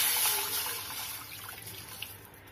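Water poured into a pan of rasam while cooking, a steady soft splashing and trickling that runs throughout at a modest level, fading slightly toward the end.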